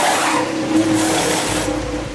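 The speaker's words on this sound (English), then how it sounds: "That was a pit stop." Formula 1 car at a pit stop, a steady blend of engine and tyre noise with a brief squeal near the middle, loud and continuous with no voices.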